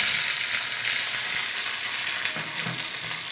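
Cumin, mustard seeds, urad dal and curry leaves sizzle loudly in hot oil, a steady dense crackle that runs without a break, with a few small pops near the end.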